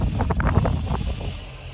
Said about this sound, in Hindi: क्या मस्त हवा चल रहा है एकदम ठंडा ठंडा